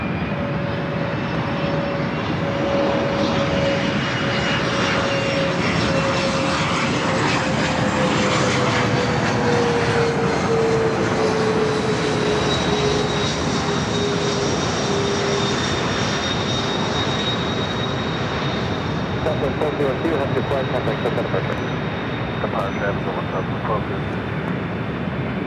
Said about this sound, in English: Lufthansa now getting the clear to back taxi on 24 left.